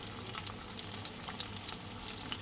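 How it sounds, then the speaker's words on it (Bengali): Eggplant pieces frying in hot oil in a pan crackle and sizzle steadily, with bright spitting pops over a low kitchen hum, close and fairly quiet. "চলো বেগুনগুলো বেশ সুন্দরভাবে ভেজে নিই।"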